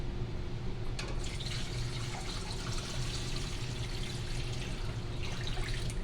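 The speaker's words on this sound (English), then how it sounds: "I'm going to add water to cover." Tap water running steadily into a large stock pot holding a whole chicken, a continuous close rushing and splashing fill with no talk.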